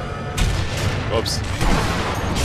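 Gunfire in the shooter video game Sniper Elite V2 pops in a short burst of loud shots amid busy game noise, with players talking over it.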